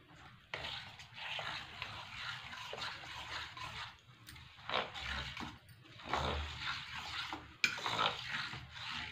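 Pea breakfast mixture with vegetables and coriander leaves being stirred in a pot, giving repeated wet scraping and sloshing strokes in bursts, close and moderately loud, with no talk.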